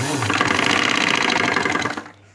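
A sewing machine stitches the side seams of a boat neck blouse, running in a fast, steady mechanical chatter up close for about two seconds before stopping.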